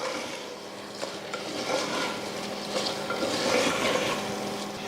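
Seeraga samba rice is stirred into chicken biryani in a pot, with soft scraping and wet shuffling strokes over a faint sizzle, close and fairly quiet.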